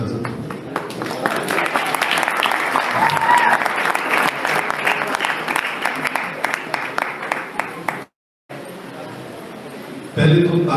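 Audience applauding at a musical evening of bhajans at a school in Dharamshala, a long, loud, dense burst of clapping that fills the room, then cuts off briefly before a short final swell.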